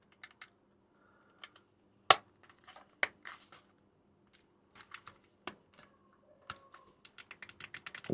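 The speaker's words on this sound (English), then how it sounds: "Why is that not clipping together? Any reason why? Oh, God. Why are these so clicky?" Small plastic electronic parts snapping and clicking together during a repair, a series of sharp, close clicks spaced irregularly and growing more frequent toward the end, with no talk.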